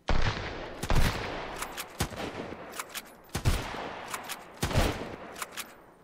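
Gunfire in the Sunkenland survival game, several loud sharp shots spaced a second or so apart, each with a short noisy tail, and lighter clicks and thumps between them.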